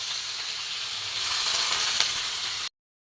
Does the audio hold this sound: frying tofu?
yes